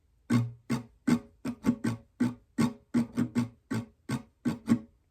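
Acoustic guitar strumming pattern for a song played without an emphasized strum, a run of even, close, bright strokes in steady rhythm with no talking.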